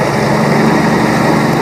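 A Minneapolis Model BF tractor rolls past in a threshing-show parade at Rollag, its engine giving a steady, fairly loud drone with no break in rhythm and no talk over it.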